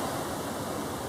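Cruise ship propellers churn seawater as the ship Liberty of the Seas slows near a harbour, a dense, loud, steady rushing wash with no voices over it.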